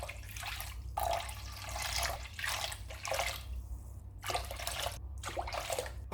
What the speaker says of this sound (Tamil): ஆறு டம்ளர் அளவு தண்ணி சேர்த்துருக்கேன்